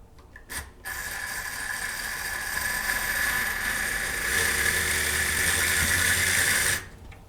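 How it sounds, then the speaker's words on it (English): A slow, high-torque driver runs continuously for about six seconds driving paint-clogged slotted screws, a steady close mechanical whir with a slight rise partway through before stopping abruptly. "So this is a slow driver"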